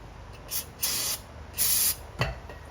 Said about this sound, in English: I'm going to spray it onto my rag off screen and wipe it